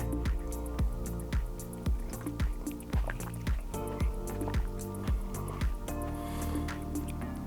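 Pho broth is slurped and sipped straight from the bowl in a rhythmic run of about a dozen wet, close-up gulps and slurps. A brief breathy pause comes near the end.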